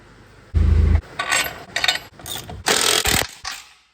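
Hand ratchet tightening nuts on the suspension of a Nissan Patrol GU, close and loud: a burst of clicking followed by several uneven ratcheting runs with metallic clinks and short pauses between strokes.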